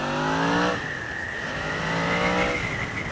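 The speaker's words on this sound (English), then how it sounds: "once you start revving it up, you just have to slip the clutch a tiny little bit" A 2017 Yamaha FZ-10 motorcycle engine revs up and holds a rising, buzzing pitch, easing off briefly before climbing again, loud and close.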